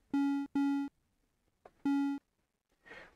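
A retro 8-bit synthesized sound effect, built in BFXR with the high end cut off, plays as three buzzy square-wave beeps at one pitch. A short click falls between them, and a soft noisy burst ends the sequence.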